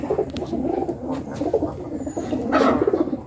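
Pigeons coo steadily indoors inside a room where the flock is kept, several birds perched in a row on a railing, their soft overlapping calls continuous and close with a slightly louder burst near the end.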